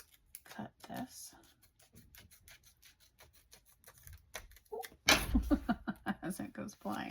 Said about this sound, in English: let's find the scissors